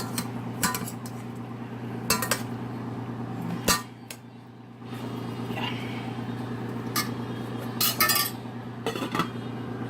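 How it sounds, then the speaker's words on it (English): Metal forks clink and scrape against a dish while cooked crock pot chicken is pulled apart, with sharp irregular taps and clatters close by over a steady low hum. "I shredded it with 2 forks"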